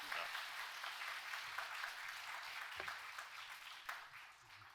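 An audience at a memorial lecture greets the lecturer with sustained, dense applause that holds steady throughout and thins slightly at the end, with a murmur of voices underneath.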